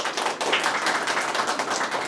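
An audience applauding at a speech event, a dense, steady patter of many hands clapping at moderate distance for a couple of seconds.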